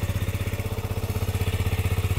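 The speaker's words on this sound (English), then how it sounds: "let's just fire the beast up again and show you the exhaust tone" A 2018 KTM 125 Duke sits idling with a steady, evenly pulsing exhaust note, a close, deep, regular putter of the 125cc single heard on its own with no voices.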